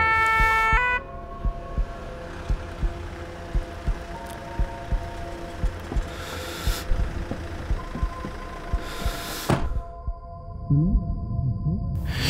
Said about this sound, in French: J'entends la sirène des pompiers